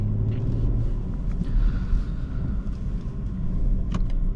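A 2024 BMW M440i Gran Coupe xDrive pulls away, heard from inside as a steady low engine and road rumble with faint cabin ticks.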